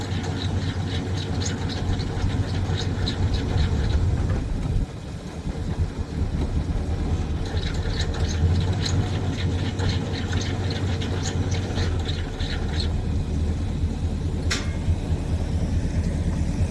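A Ford Mustang rated at about 120 horsepower runs steadily, giving a loud, continuous low engine drone with a brief dip partway through and a faint repeated ticking above it.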